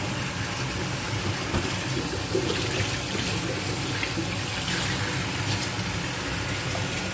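Pork neck chops being rinsed under running tap water in a kitchen sink, a steady continuous splash and hiss with a faint low hum behind it, no talking.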